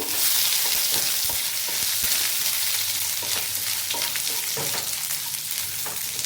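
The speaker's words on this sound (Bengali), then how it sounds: "এবার আমি আদা কুচি দিয়ে দেবো, রসুনও দিয়ে দেবো। এগুলো হালকা একটু নেড়ে নেব।" Chopped ginger and garlic frying in hot oil while being stirred, a loud steady sizzle broken by sharp, repeated spatula scrapes against the pan, close and with no talking.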